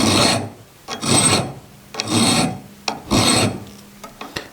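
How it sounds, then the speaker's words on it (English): A hand file sharpens a dado plane blade to a knife edge in four close, rhythmic rasping strokes, each one scratchy and distinct, separated by short pauses. "So I'm just going to file these until I get a sharp edge, a knife edge, on that leading edge."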